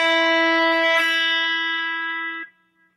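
Electric guitar playing a held note with correct palm muting, so the pitch rings cleanly and close without stray string noise, then cuts off sharply into near silence.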